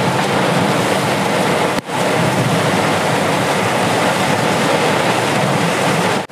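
Heavy rain and tyre spray roar steadily from a loaded Tata Bada Dost truck driving through a downpour on the road to Chennai, a dense, loud, continuous wash of water noise with a brief dip partway through.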